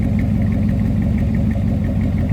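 A 1961 Ford Galaxie Club Victoria Starliner's 390 V8 idles with a steady, deep low rumble and a faint rhythmic lope, close and even throughout with no talk.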